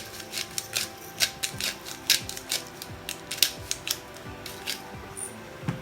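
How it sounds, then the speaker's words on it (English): Pepper grinder cracking whole black pepper over a pot of Sri Lankan chicken kanjee, a quick series of sharp, dry crunching clicks in an uneven rhythm, close and fairly loud, with no talking. "I'm going to crack some pepper inside."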